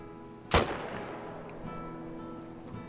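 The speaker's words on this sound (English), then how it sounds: "Let's go ahead and take a shot at him." Single rifle shot at an axis deer in theHunter Call of the Wild, a sharp loud crack followed by a long fading rumbling echo across open terrain, no talking.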